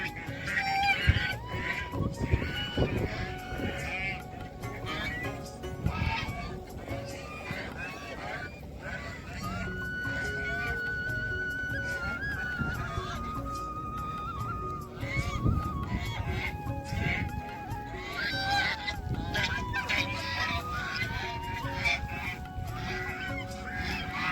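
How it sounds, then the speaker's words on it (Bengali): A flock of geese honk on a riverbank along the Jamuna, with frequent loud overlapping calls rising and falling continuously over a busy outdoor backdrop. "হাঁসের ডাকগুলা সত্যি অনেক সুন্দর আর এই ডাকগুলা কিন্তু রিয়াল"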